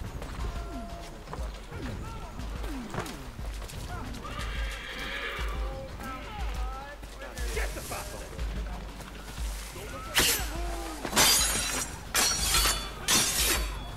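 A horse whinnies amid a busy, noisy Assassin's Creed 3 game soundscape with clattering hooves and sharp crashing bursts toward the end.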